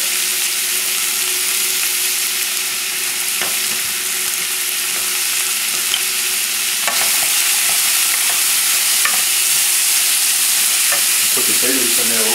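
Vegetables sweating in a pan for brown rice with lentils give a loud, steady hiss of sizzling, with occasional light stirring clicks, close and without talk.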